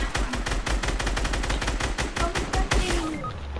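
Fortnite gunfire: dense rapid bursts of shots fired in quick succession, loud and continuous with a few heavier reports, no talk over it.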